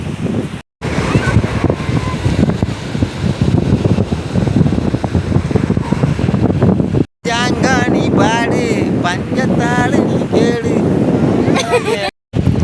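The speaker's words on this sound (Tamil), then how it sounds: "காற்று பயங்கரமாக அடிக்குது" Strong wind roars and buffets the microphone throughout on a boat at sea, with a voice talking over it in the second half.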